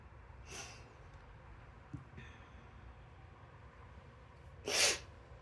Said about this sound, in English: Ah, sniffles.